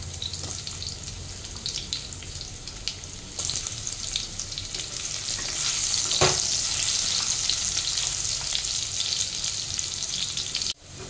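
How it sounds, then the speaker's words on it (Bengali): Potatoes frying in hot oil for a Bengali-style jackfruit and prawn dish, a steady close crackling sizzle that builds and stays loud, with a brief clatter near the end. "এবার আমি আলুগুলো ছেড়ে দিচ্ছি ভাজার জন্য"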